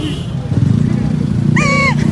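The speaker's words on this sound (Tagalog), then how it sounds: "Tumigil yung motor." A motorcycle engine idles and putters close by under loud speech, with a brief high whining tone near the end.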